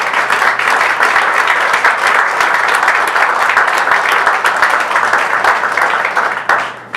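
An audience applauds a U.S. Navy honoree at a speaking event, a dense, steady wash of many hands clapping throughout before tapering off at the very end.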